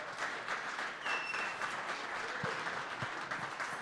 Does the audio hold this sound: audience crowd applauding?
yes